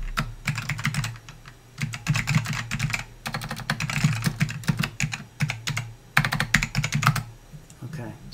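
A function is typed into a graphing tool on a computer keyboard: steady bursts of close, clicky keystrokes in uneven runs with brief pauses over about eight seconds.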